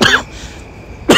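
A single close, loud cough with a throat-clearing rasp, from a person riding a commuter train in Japan, followed by a brief second burst at the end.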